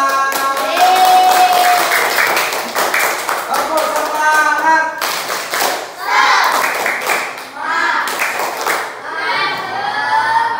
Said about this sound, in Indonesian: beri tepuk tangan dulu kelompok 5